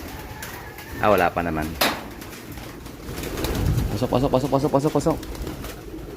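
Homing pigeons coo in rolling, throaty bursts inside a loft in Atimonan, Quezon, heard close and fairly loud with a brief flutter and handling noise, while someone speaks briefly.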